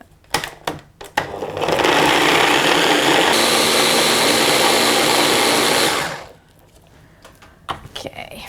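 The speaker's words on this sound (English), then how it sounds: "I'm going to blend in 2 parts because I can't fit so much in my blender" A blender blending tomatoes for gazpacho whirs loudly for about five seconds, a dense steady grinding roar that shifts pitch partway, then cuts off, with clicks and knocks before and after.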